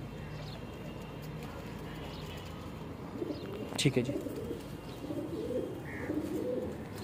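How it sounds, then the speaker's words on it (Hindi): A Teddy cross flying pigeon and others coo in low, warbling calls that grow fuller in the second half, over a constant background hiss, with someone speaking briefly in between. "ए हूँ कबूतर वेख लो ए भी टैडी क्रास कबूतर जे माशाल्लाह।"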